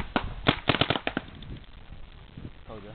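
A Planet Eclipse Etek2 paintball marker with a V35 rip drive, set to ramping, fires a quick rapid volley of sharp pops up close. The shots are followed by fainter rustling, and a voice speaks briefly near the end.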